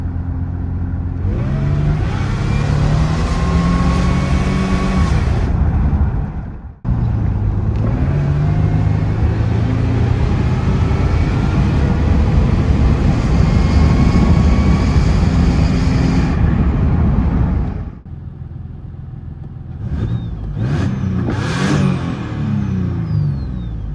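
A 1997–2004 Nissan Frontier V6 with newly fitted headers drives along under a steady, loud engine drone that rises and falls with revs, briefly cutting out twice before resuming, close and without speech.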